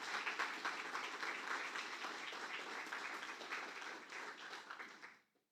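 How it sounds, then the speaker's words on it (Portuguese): A church congregation applauding during a service, a dense steady wash of many hands clapping at moderate distance that stops abruptly at the end. "Você pode aplaudir o Senhor por essa palavra?"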